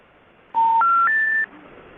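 Three telephone keypad tones sound in quick succession, each a clear steady beep stepping upward in pitch, loud and close against a quiet line hiss.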